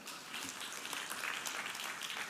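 A congregation at a church sermon claps briefly, a dense, even burst of applause from a crowd filling the short moment without any voice over it.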